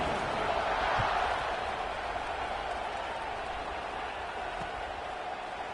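Stadium crowd in the NCAA 26 football video game, a steady broad roar of cheering that swells slightly at the start and then holds evenly throughout, with no clear voices standing out.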